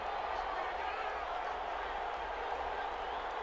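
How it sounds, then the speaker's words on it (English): Stadium crowd noise from the American football video game Madden 21, a dense, steady roar of a large distant crowd that holds constant throughout, with no distinct cheers. "Even get that crowd to quiet down a little bit."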